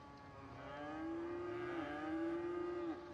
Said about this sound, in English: And then here's another cow.